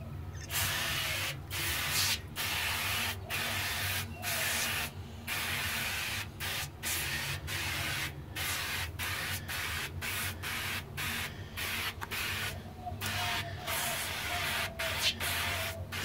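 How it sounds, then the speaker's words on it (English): Cleaner sprayed onto grease-caked grates of a barbecue pit smoker, a long run of close, loud hissing spray bursts in quick, uneven pulses, separated by short pauses, with no talking. "Spraying some of this stuff on there."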